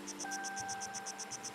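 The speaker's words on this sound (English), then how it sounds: "like the cricket chirping, you feel it buzzing when the chirps happen" Insect-like chirping from a cricket in the video game Season: A Letter to the Future: about a dozen evenly spaced, bright pulses in steady rhythm over a faint, constant ambient hum.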